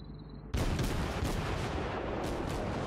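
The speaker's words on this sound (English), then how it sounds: "there you go, there's the first initial shots out." German cruiser guns open fire in World of Warships: after a moment of quiet, a sudden loud booming salvo erupts and rolls on as a sustained roar with further blasts layered in.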